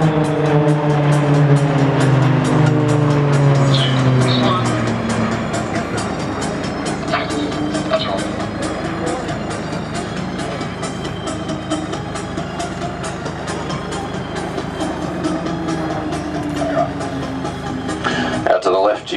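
RAAF Roulettes aerobatic aircraft flying in formation at the Williamtown airshow, a loud propeller engine drone with a falling pitch early on that settles into a broad, distant roar, under continuous commentary.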